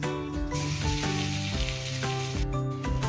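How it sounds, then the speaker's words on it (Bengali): Boiled, mashed sweet potato dropped into leftover ghee with a piece of cardamom sizzles with a steady, loud frying hiss, under background music. "এবার আগে থেকে সিদ্ধ করে ম্যাশ করে রাখা মিষ্টি আলুটা দিয়ে দেব।"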